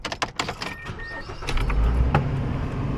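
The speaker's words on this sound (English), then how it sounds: "So we're going to turn on the car." A car is started for a GKU front and rear dash cam test, with a few clicks and a whirring motor up close, followed by a low engine rumble that settles into a steady idle.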